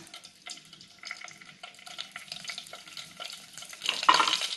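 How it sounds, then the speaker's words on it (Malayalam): Cumin seeds crackle and sizzle in hot oil with quick irregular pops, getting louder near the end as the frying intensifies; close, no talking. "അതിൽ ജീരകം ഇട്ട് പൊട്ടിക്കണം"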